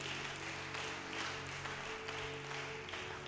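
A church congregation claps and applauds for Jesus during a bilingual English-French service, a steady, diffuse wash of hands filling the room for a few seconds with no voices standing out.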